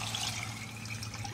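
Four cups of water pour steadily into a pot of braised pork belly, a continuous close splashing fill that stays even from start to finish with no talking.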